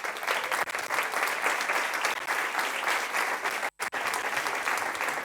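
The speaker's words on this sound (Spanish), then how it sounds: "Ahora sí les damos un aplauso a los tres." Audience applauding at the close of a round-table panel, dense clapping, steady and fairly loud throughout, with a brief cut near the end before it resumes.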